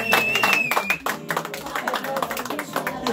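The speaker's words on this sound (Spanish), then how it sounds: "Démele un aplauso allá" Brief clapping from a small audience, sharp and uneven, mixed with background music and voices over a few seconds.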